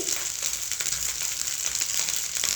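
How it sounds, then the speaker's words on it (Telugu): Rice for cumin fried rice frying in a hot pan gives a dense, continuous close-up hiss and crackle throughout, with no talking. "ఈ రైస్ వేసుకొని ఫ్రై చేసుకుందాం"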